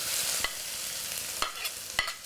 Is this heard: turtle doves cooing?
no